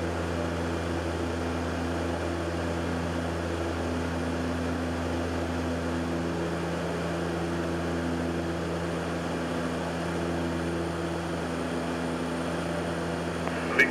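A seaplane's propeller engine in Croatia runs as a steady, even drone with a constant tonal hum throughout, close and unbroken, with no voices.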